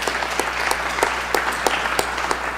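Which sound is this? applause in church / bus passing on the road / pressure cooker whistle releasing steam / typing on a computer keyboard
applause in church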